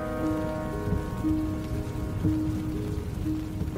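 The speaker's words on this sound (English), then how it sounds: "Rain drizzled over the canyon of the South Fork of the Ogden River. It pattered on the canvas top of Heidi Posnan's Jeep" Steady drizzle patters on the canvas top of a parked Jeep in a river canyon, a soft continuous rain sound with faint tonal hums underneath and no voices.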